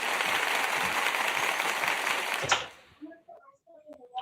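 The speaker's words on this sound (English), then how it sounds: "Let me give him a little round of applause here." A crowd gives a short burst of dense applause that cuts off abruptly partway through, followed by faint voices and light movement in a quieter room.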